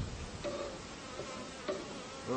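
Honeybees buzzing around an opened hive during a beekeeping check, a soft, close, continuous drone with a few brief louder passes of single bees.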